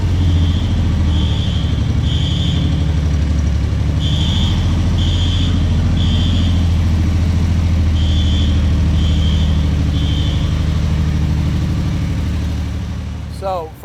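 An aircraft-engined dune buggy idles with a steady low rumble, accompanied by a regular high-pitched beeping in repeated bursts, before cutting off with a short rattle at the end.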